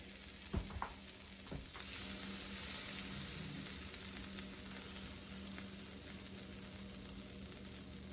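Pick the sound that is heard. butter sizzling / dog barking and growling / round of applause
butter sizzling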